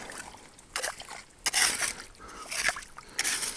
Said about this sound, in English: So obviously this is gonna stir up the water a lot.